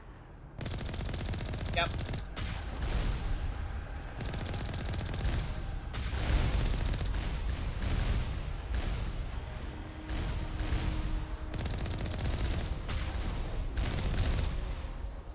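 Turret gunfire in the video game Mass Effect bursts in long, rapid mechanical volleys that nearly fill the stretch, with brief gaps between bursts and a short spoken word near the start.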